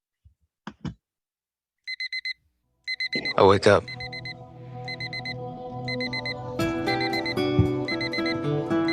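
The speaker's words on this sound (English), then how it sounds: "I turn off the alarm." An alarm clock rings in short repeated beeping bursts, loud and close, then gives way to speech and clatter as someone talks over it.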